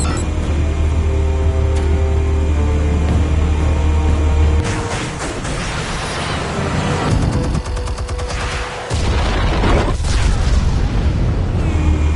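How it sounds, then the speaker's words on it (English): Explosives detonate in a Batman video game: heavy booming blasts and crackling debris fill the clip, with a sustained low rumble, a sharp burst around the middle and a brief dip before the roar resumes, loud throughout. "Explosives armed. Fire when ready."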